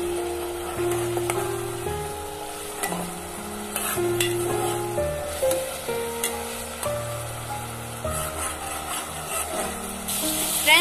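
Chopped onions with turmeric frying in oil make a soft, steady sizzle nearby, under a sustained tonal hum that steps between pitches, with occasional clinks and scrapes from stirring.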